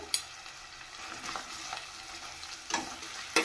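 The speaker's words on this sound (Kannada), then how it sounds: "ಚೆನ್ನಾಗಿ ಗೋಲ್ಡನ್ ಕಲರ್ ಬರೋವರೆಗೂ ಫ್ರೈ ಮಾಡ್ಕೋಬೇಕು." Finely chopped onions frying in a pan for restaurant-style fried rice, a close, steady sizzle broken by occasional sharp stirring scrapes, with no voices.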